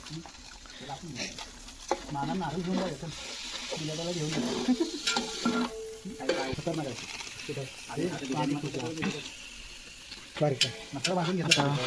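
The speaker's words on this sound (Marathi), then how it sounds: "मसाले टाकले जात आहेत" Spices go into a frying pan for biryani and sizzle while being stirred, with scraping strokes and bursts of frying. Several people talk over the cooking almost the whole time.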